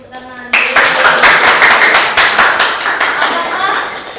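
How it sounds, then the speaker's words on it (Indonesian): A classroom audience bursts into clapping after a brief voice, many hands beating in quick, uneven rhythm, loud and close, then gradually thinning toward the end. "Tepuk tangan."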